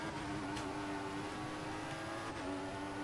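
Formula One car engine from the F1 2014 racing game during the Malaysian Grand Prix, a steady high-pitched whine held continuously at fairly constant pitch with brief shifts, no talking.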